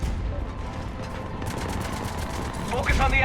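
Starship cannons firing in the sci-fi video game Mass Effect 3, a rapid rattling volley of bursts that builds louder toward the end, mixed with mechanical game effects and a voice underneath.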